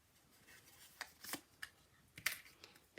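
Scissors snipping through paper card while making a folded greeting card, a few quiet, sharp cuts spaced unevenly over faint rustling of the card being turned and handled.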